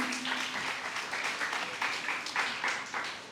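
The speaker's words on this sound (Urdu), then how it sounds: "آپ کی بھرپور تالیوں میں محترمہ عطیۃ الوکیل۔" An audience at a children's assembly in Lahore breaks into applause, a full crowd of clapping with slight rises and falls in intensity, carrying on steadily for a few seconds.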